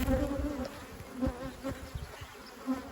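Honey bees buzzing steadily at an open hive during a honey check, a dense continuous drone with individual bees passing close by.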